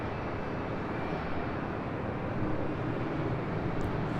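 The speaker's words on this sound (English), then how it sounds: "This is United Airlines 1431 about to take off to Honolulu on a 757-300." Low, even jet roar from a United Airlines Boeing 757-300 preparing for takeoff at LAX, a constant engine rumble heard from some distance with no voices.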